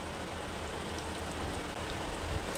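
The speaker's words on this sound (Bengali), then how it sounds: "এবার চিকেনের পিসগুলো এক এক করে তেলের মধ্যে ছেড়ে দেব।" Chicken pieces sizzle steadily in hot mustard oil in a pan, a dense close crackle with no talk.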